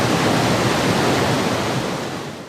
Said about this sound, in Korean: 분명히 물소리였고 그것도 작은 개울이 아니라 웅장하고 힘찬 소리였다